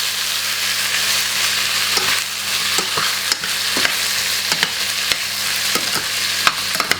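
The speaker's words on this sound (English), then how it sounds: "we're gonna just burn off this onion" Onion frying in a big pot, a constant close sizzle broken by repeated clanks and scrapes of stirring, loud and unaccompanied by talk.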